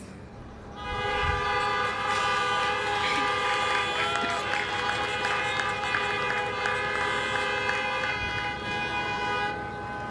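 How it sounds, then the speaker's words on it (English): Car horns honk together for about nine seconds at an outdoor drive-in graduation ceremony, a loud sustained chorus of overlapping tones rising after a short pause. "can you please honk your horns?"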